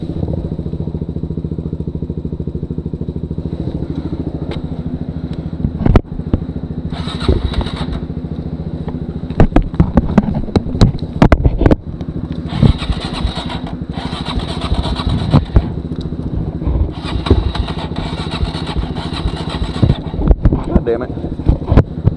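A motorcycle engine idles and is blipped on the throttle a few times, with sharp revving bursts rising over a steady close running drone on a muddy trail, plus clatter. Voices talk over it at times.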